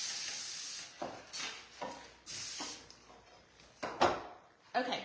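Pam cooking spray hisses onto pans in several short bursts of varying length, with brief pauses and light kitchen clatter between sprays and a voice now and then.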